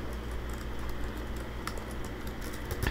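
Typing on a computer keyboard: a steady run of quick, soft key clicks, close and continuous over a low background hum.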